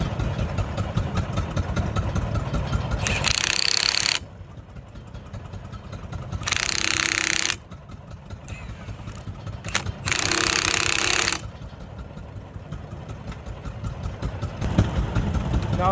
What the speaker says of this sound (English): Milwaukee impact